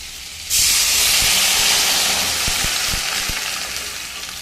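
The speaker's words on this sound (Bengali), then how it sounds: "এবারে আমি জল দিয়ে দেবো।" Water splashed onto vegetables fried until red in a hot pan bursts into a sudden loud hiss that slowly fades away, with a few faint knocks underneath.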